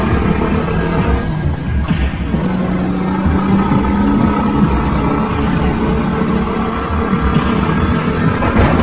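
A motorbike engine hums and revs continuously, a steady mid-pitched drone with slight swells, set as a sound effect in a horror story scene.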